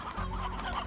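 Chickens in the Slime Rancher video game cluck in a short, dense, close burst of overlapping fowl calls, loud and alone without talk.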